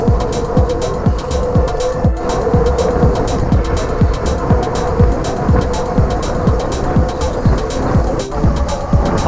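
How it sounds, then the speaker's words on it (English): Steady freeway traffic running alongside a canal path, a continuous broadband rush of passing cars with repeated low swells as vehicles go by, loud and unbroken with no talk. "So the freeway is right over here on my left"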